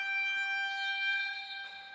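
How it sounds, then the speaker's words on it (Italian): Siren at an Italian Serie A2 roller hockey match, a steady electronic tone with stacked harmonics sounding loud and unbroken for about two seconds before easing slightly, no speech. "Tanto suona la sirena"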